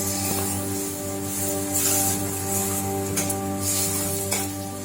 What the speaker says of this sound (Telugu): ఇది కొంచెం పచ్చి వాసన పోయే వరకు ఫ్రై చేసుకుందాం